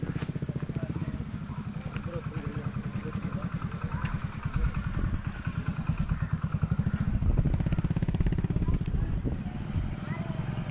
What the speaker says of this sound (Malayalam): ബൈക്ക് പോകുന്നുണ്ട്.